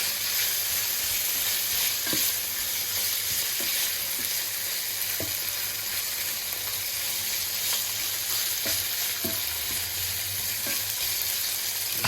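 Onions fry loudly in a pan for Venetian-style liver, a dense continuous sizzle with occasional scraping strokes of a spoon as they are stirred, close and steady throughout.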